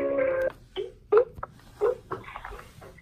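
A call-center dialer setup built from cell phones connects a call through a phone handset: a steady tone, then a few short beeps and clicks, near and fairly loud, with no talking.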